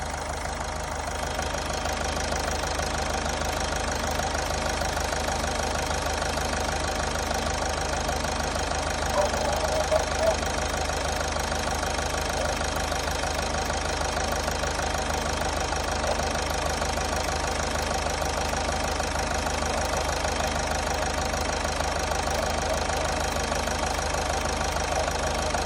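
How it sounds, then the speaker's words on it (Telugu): A Toyota Etios car engine idles steadily for the whole stretch, a continuous even hum with a faint rhythmic beat and no talk. "ఒరిజినల్ బీటింగ్ వస్తుంది చూడు ఇప్పుడు."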